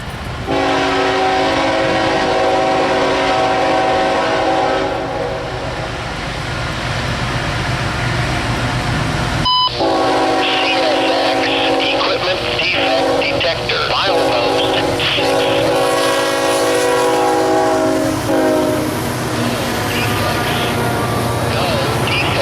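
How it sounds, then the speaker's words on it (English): A CSX freight train approaching on the A Line sounds its horn in long, loud, close blasts over the rumble of the locomotive, with a brief break mid-way before the horn resumes alongside rolling wheel noise. "We got a nice little horn show from the engineer as they approached our location."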